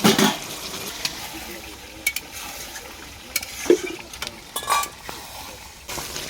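Mutton pieces stirred and fried in a pan over a wood fire, with soft sizzling under scattered scrapes and clinks of a utensil against the pot, a few louder knocks standing out.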